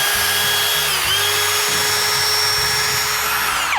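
A Milwaukee M18 Hole Hawg drill spins at a steady, loud motor whine close by through the whole stretch, then starts to wind down at the very end.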